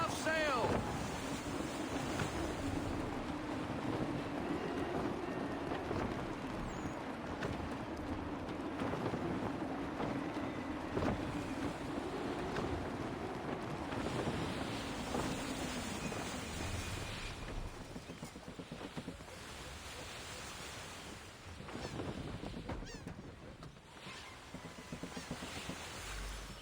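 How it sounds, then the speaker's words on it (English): Gusty wind sweeps across open sea around a sailing ship in Assassin's Creed 3, a steady rushing roar with low water wash beneath and a faint voice now and then. "Wind looks to be shifting. Stay alert, Connor. Gusty winds can be difficult to manage."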